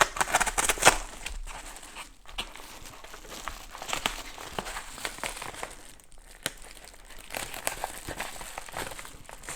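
Paper packaging being cut and torn open with a paper knife, holding a small compass, with close crinkling and ripping in irregular bursts that are loudest at the start, then scattered rustles and handling noises.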